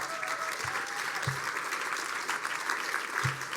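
Steady applause from an event audience at an awards gala, continuous dense clapping filling the whole stretch with a few low thumps.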